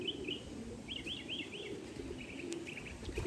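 Several small birds, three of them together, give short high chirps in quick bursts over a steady low background hum, the calls moderately near and fairly soft.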